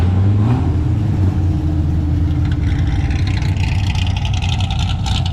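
A car rolls up with its engine running at an outdoor car meet in Dallas, Texas: a loud, close, steady low rumble that rises slightly in pitch early on, with faint crowd noise behind it.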